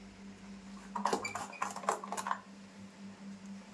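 A knife cutting washed ridge gourd for a village-style vegetable dish: a short run of soft, quick chopping taps over a low steady hum, fairly faint, with no speech.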